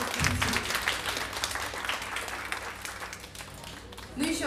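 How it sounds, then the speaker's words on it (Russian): Dense audience applause for dancers at a live event, filling the room in a steady roar with voices mixed underneath. "отдельные аплодисменты танцующим"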